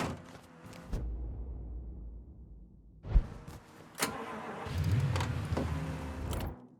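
In the video game Mafia III, a car engine cranks and turns over amid clunks and mechanical noise, then idles and revs with a low steady rumble.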